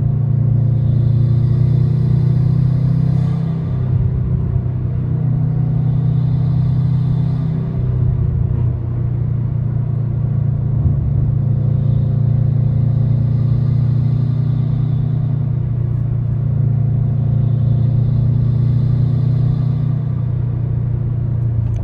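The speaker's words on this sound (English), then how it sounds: "You're going to hear the intake along with the turbo kind of spool up right about here." Subaru WRX on a canyon road, its engine rumbling steadily and loudly close by as it downshifts and accelerates in third gear, with intake noise and turbo spool rising over a continuous low drone.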